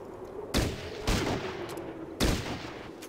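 Three loud gunshot bursts from the Fallout Tactics video game, spaced unevenly with a short rattling decay after each, over a low ambient background, no talking.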